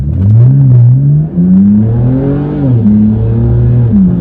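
BMW 328 pulling hard from a standstill, engine loud and near as revs climb, dip briefly at a gear change, then rise again through the next gear.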